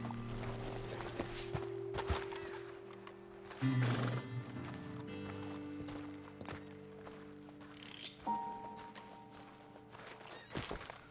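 Horses in Red Dead Redemption 2 stand near the player after a dismount: steady hoof clip-clops, snorts and a whinny, close and fairly quiet over a low game ambience, with no talking.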